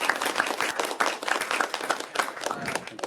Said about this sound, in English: Let's give a big round of applause for our speaker.